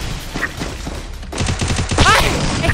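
A UMP submachine gun fires in a first-person shooter game: loud, rapid bursts of automatic gunfire with sharp repeated shots, the fire growing denser in the second half.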